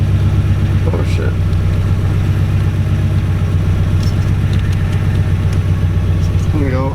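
A tuned, fully built 700 horsepower Subaru STI with a 6466 twin-scroll turbo idles steadily, a loud, constant low rumble close by with no talking.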